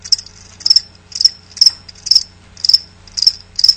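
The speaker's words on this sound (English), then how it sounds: "That's right, crickets." Crickets chirp in a steady, loud, close rhythm of short repeated trills, about two per second, with no voices, used as a sound effect in a radio ad.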